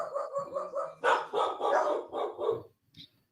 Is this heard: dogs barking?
yes